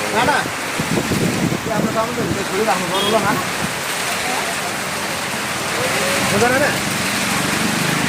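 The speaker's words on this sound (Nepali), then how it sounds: "चैत 1 गतेको दिन यसरी पानी पर्यो है त।" A steady, dense hiss of heavy rain with hail during a windstorm in Dharan, Nepal, pours down throughout, while people talk faintly beneath the downpour.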